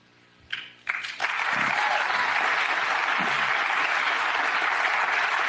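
After a few brief knocks and sounds, loud crowd applause swells in about a second in and holds as a dense, unbroken roar of clapping to the end.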